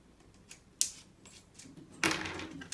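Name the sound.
box cutter slicing open makeup palette packaging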